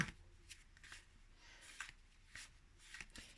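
A handmade pop-up greeting card with hidden flaps is folded shut, giving soft, faint papery rustles and light taps spread over a few seconds in a quiet room.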